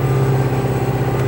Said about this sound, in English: the only way to really keep your RPM up would be to throttle up the engine.